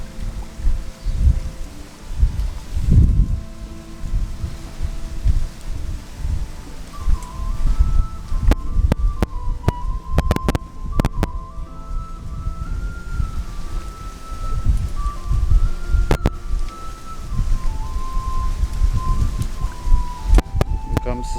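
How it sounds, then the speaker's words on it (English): Strong wind gusting outdoors, heavy rumbling buffeting across the whole clip with scattered rustles and clicks, loud and close. "Wind is kicking, feels good."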